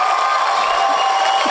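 A steady, dense wash of crowd noise resembling applause and cheering, even in loudness throughout without distinct claps or voices standing out.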